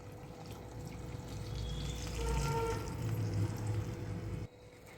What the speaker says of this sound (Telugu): ఈ చింతపండు గుజ్జుని రెండు సార్లు ఇలా కలిపేసేసి రసాన్ని మొత్తాన్ని సాంబార్లో వేసేసుకుంది